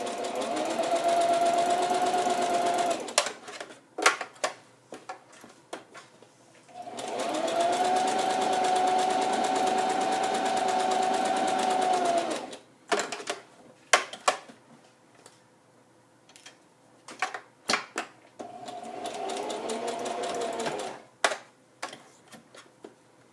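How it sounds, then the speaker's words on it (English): A sewing machine stitches a cloth mask in three separate runs, each a steady whirring burst lasting a few seconds, with clicks and handling noises between them as the fabric is turned. "if you're using a sewing machine, when you get to the end, leave the needle down so you can turn it"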